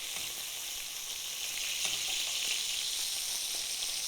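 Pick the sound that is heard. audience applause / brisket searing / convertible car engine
brisket searing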